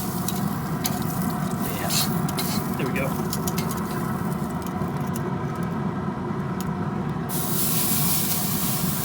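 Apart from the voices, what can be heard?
steak sizzling on a Z Grills pellet grill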